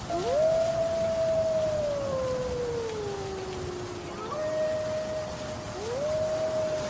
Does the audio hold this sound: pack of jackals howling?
yes